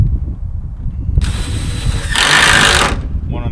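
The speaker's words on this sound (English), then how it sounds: "Put a screw in this for right now." A power drill drives screws into an old greenhouse frame on a homestead, two close whirring bursts, the second louder, with low background noise.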